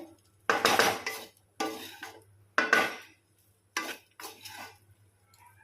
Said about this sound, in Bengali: ভালো করে রাইসটাকে মিশিয়ে নেব ভালো করে মিশিয়ে নেব ভেজে নেবো রাইসটাকে সবজির সাথে